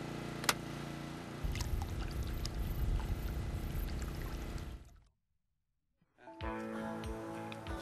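Grundfos SQFlex pump switched on and pumping water, giving a steady gushing, pouring rush for about five seconds, then a moment of silence before the flow sound returns.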